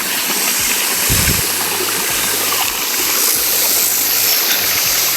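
Irrigation water rushes and gurgles steadily into a farm field nearby, loud and continuous, with a low sloshing undertone and no voices.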